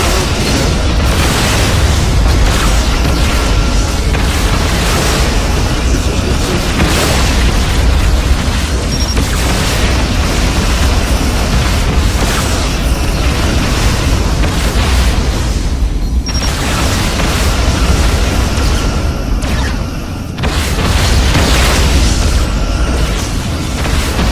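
Heavy, booming photon torpedo explosions from a Star Trek Legacy space battle, a continuous loud barrage of blasts and rumbling impacts filling the whole stretch with hardly any pause.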